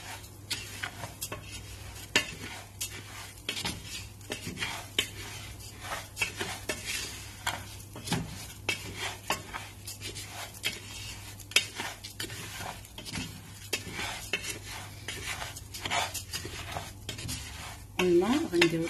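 Spices with salt, ginger and turmeric being stirred in a bowl for lamb shoulder: repeated soft scraping and clinking of a utensil against the bowl, steady and close, with a low hum underneath.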